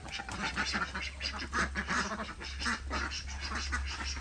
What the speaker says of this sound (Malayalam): നമ്മൾ താറാവുകൾ ഇതാ ഈ സൈഡിലാണ് ഇട്ടിട്ടുള്ളത്